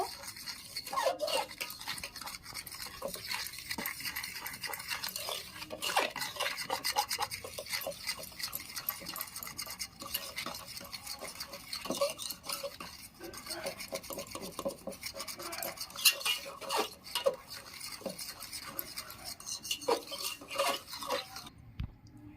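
Sugar being beaten into white cooking oil in a bowl for a soft cake batter, a steady close scraping and rasping of utensil against bowl that runs on without pause.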